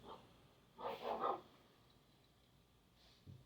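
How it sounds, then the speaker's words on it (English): A neighbor's dog barks a few times in quick succession, distant and moderately loud, against a quiet indoor background with no speech. "That was a dog."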